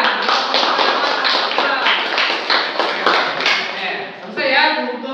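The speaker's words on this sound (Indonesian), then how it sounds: "Oke, tepuk tangan." Classroom clapping during a Pancasila education lesson, after a group presentation: a steady run of many hands beating together, close and fairly loud, easing off near the end.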